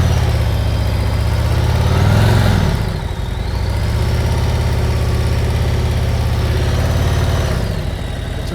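A motorcycle engine runs loud and close with the throttle held in the clutch's friction zone, its low hum swelling and dipping slightly as the revs shift, with no talk.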